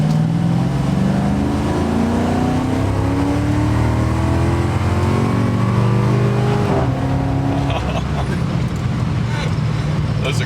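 A BMW Z3 M Roadster rated at 400 hp accelerates hard from inside the cabin, its engine note climbing and dropping through quick, aggressive gear shifts, loud and constant, with voices talking over it.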